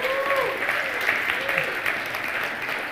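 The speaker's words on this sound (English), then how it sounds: "round of applause for the band leading us in worship" A congregation applauds the worship band at a Christmas church service, steady mid-level clapping with faint ringing tones early on.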